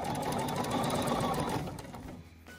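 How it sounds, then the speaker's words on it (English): A sewing machine stitches steadily during free-motion quilting along the seams of a quilt, a fast, close mechanical hum that eases off toward the end, with no talking. "So I just want to stitch along the ditch and just kind of lay it down."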